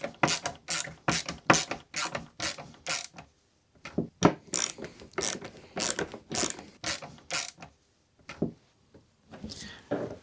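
A power driver runs screws into a wooden bracket for an upcycled mid-century suitcase table in a series of short, loud whirring bursts separated by brief pauses, close up with no talking.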